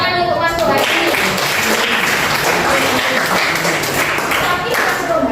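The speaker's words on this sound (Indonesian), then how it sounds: "tepuk tangan untuk Mas Nurhadi" Students in a classroom clap for a classmate, a loud, dense burst of applause lasting several seconds with no break.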